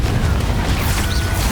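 Spell blasts from the Confringo fire spell in the Hogwarts Legacy video game, heard as a continuous rumbling low boom that stays loud and dense through the whole stretch, with no voices.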